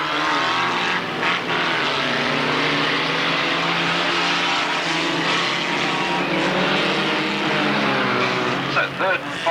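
Standard rods race around the Alwalton track in a dense, continuous engine roar with rising and falling drones as cars pass, heard from trackside, and commentary talks over it.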